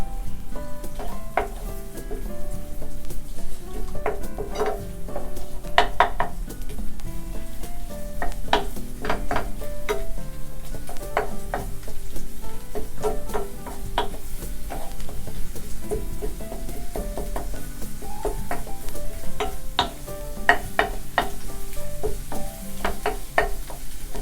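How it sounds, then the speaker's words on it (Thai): Eggs scrambled in a hot frying pan, a continuous crackling sizzle of oil with frequent scrapes and taps of a spatula stirring, close and steady throughout. "เราก็ยีไข่นะคะ ให้ไข่สุก สักนิดหนึ่งนะคะ"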